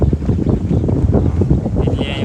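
Gusty wind buffets the microphone with a continuous low rumble and uneven puffs, loud and close throughout.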